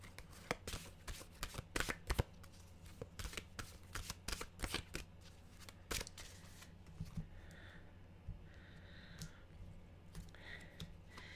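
Mantra-style mystical wisdom cards being shuffled by hand in a run of crisp riffling bursts, followed by softer card slides and faint rustling, close and quiet with no voices.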